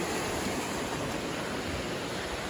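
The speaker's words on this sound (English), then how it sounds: "The water is flowing. It is loud and gushing." A steady, loud rush of a flowing mountain stream on the Appalachian Trail in Vermont, continuous and unbroken, with no voices.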